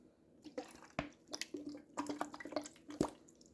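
Lemon juice splashing out of a container into a bowl of chicken wing marinade with yellow mustard, making a few short wet drips and squishy splats, close and moderately quiet with no talking.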